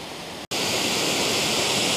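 A waterfall swollen by recent rain, heard from its base as a loud, steady, broadband rush of falling water, briefly cut by a dropout before resuming at full strength.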